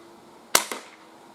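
Two sharp cracks from a Crosman 2240 CO2 air pistol fired outdoors, the second a little softer and coming a fraction of a second after the first, loud and close against quiet surroundings.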